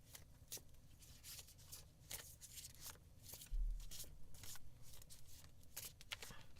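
A deck of cards being shuffled by hand, with a steady run of soft papery riffles and flicks up close, a faint low rumble underneath, and no talking.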